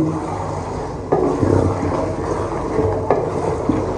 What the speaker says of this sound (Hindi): बिल्कुल दम फ्लेम पे अभी इसको 2 से 3 मिनट के लिए भूनेंगे